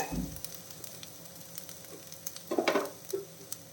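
Coconut poha upma is stirred in a hot pan, with soft sizzling and intermittent scraping strokes of the spoon, louder near the end.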